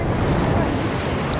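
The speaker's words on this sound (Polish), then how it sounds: "Zaraz będzie duża fala." Steady roar of surf close by in Bali, broadband and continuous, with wind buffeting the microphone throughout.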